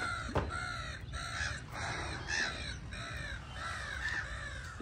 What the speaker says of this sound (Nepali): चरा कराउँदैछ